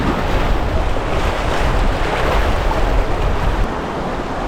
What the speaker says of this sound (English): We got some rapids for sure.